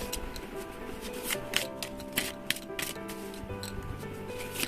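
Tarot and oracle cards being shuffled by hand, a steady papery riffling with soft snaps, close and alone over a faint tonal background.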